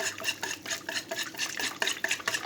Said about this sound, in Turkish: Güzelce çırpıyoruz.